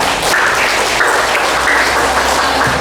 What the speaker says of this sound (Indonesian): Kita berikan aplaus untuk para bapak